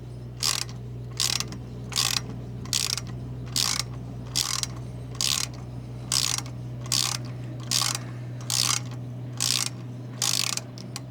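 A tap cutting threads in the exhaust of a BSA Goldstar 650 motorcycle: a regular series of short ratcheting clicks, about one a second, close up over a steady low hum.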